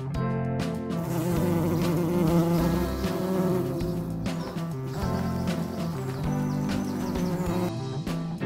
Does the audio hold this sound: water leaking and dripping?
no